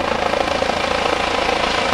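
A loud, close helicopter coming in to land on a pad drones with rapid rhythmic rotor thumping, steady and continuous with no voices.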